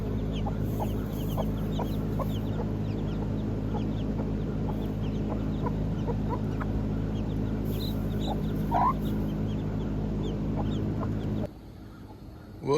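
Backyard chickens on a Texas subdivision homestead, including a mother hen with chicks, cluck repeatedly over steady farmyard ambience, with short calls scattered throughout and one louder squawk near the end.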